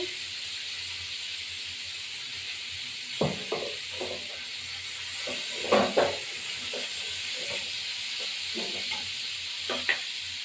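Fish frying in oil in a pan gives a steady, fairly soft hiss, broken by a few sharper crackles and clatters scattered through the clip.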